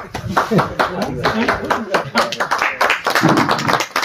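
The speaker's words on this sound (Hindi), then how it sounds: "ताली बजा बहुत बहुत नहीं बजाना।" An audience claps in scattered, uneven bursts at a gathering held at a farm house, with people talking loudly over and between the claps.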